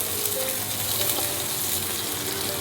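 Garlic cloves frying in oil in a pan for garlic prawns, giving a steady, close, bright sizzle and crackle that holds evenly throughout, with no voices.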